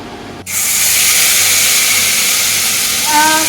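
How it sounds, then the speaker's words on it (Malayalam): Ground spice paste, mixed with water, dropped into hot coconut oil for a roasted-coconut chicken curry sets off a sudden loud sizzling hiss after a brief quieter moment, then keeps spluttering steadily and close by. "നമ്മൾ വെള്ളം ചേർത്ത് അരച്ചതുകൊണ്ട് കുറച്ച് പൊട്ടിത്തെറിക്കുകയൊക്കെ ചെയ്യും"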